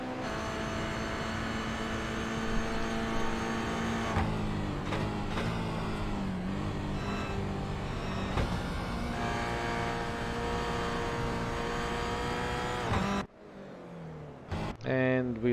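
A Toyota GR86 race car engine in a sim racing game drones steadily at high revs through a lap, with pitch shifts on gear changes and lifts, under continuous commentary.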